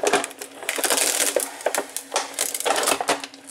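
Oversized adhesive tape being ripped and peeled off the packaging of an ACI Toys 1/6 Thracian General figure, a continuous close crackling tear with sharp snaps throughout.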